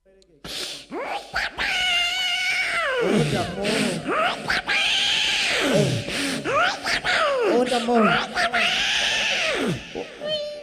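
On a Malayalam comedy stage, a mimicry artist imitates a cat with repeated drawn-out, wailing meows, loud and close, several in a row.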